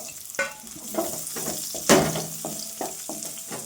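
Chopped onions, cumin and crushed garlic fry in hot oil for a banana-flower thokku, with a steady sizzle broken by several sharp clatters of a spatula stirring the pan. The sounds are close and loud, and no one speaks.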